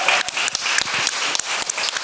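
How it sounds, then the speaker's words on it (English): Audience applause after a talk on universalism, a dense steady clapping that fills the room loudly for the full two seconds, with brief dips between bursts and no voices over it. "A big round of applause for Souleymane."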